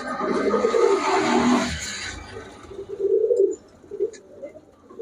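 Pigeons in a loft coo softly and repeatedly, with a louder rustling burst at the start and a voice briefly heard amid the birds.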